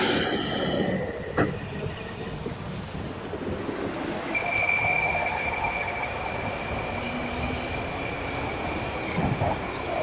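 Metro train in a Tashkent metro station, wheels squealing with high sustained screeches over a steady rumbling roar, loud and close throughout, no talking.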